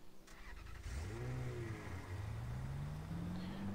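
Car engine in the mobile battle-royale game Rules of Survival, played on an emulator: a steady close engine drone that rises in pitch as the vehicle accelerates, loud and continuous with no talking.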